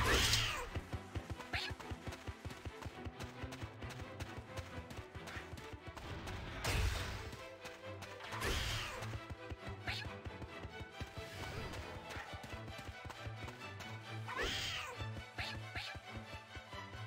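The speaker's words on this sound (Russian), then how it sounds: "чего он мяукает все время?" A cat meows several times, mixed into a dense, steady wash of video game music and effects that continues throughout.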